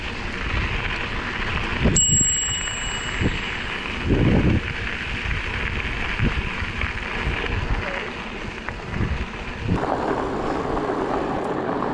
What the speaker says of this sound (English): I also wanted to give you some examples of the Sport Out bell in action in real-world conditions on various bikes